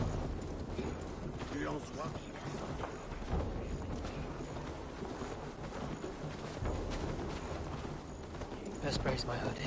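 Steady clip-clop of horse hooves in the video game Assassin's Creed Valhalla, running through a busy, noisy mix, with voices over it.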